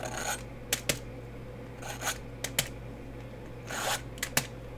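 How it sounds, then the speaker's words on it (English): A palette knife scrapes paint off a canvas in several short, rasping strokes with small clicks between them, quiet and close, with no voices. "just grab yourself a palette knife and scrape it off"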